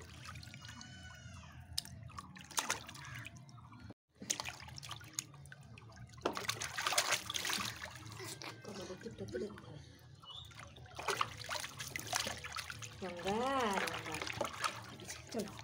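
Water splashes and trickles as a small child bathes, close and steady, with voices talking over much of the sound.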